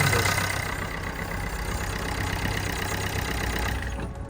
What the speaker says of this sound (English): So we can now see this engine is now running. You can hear it.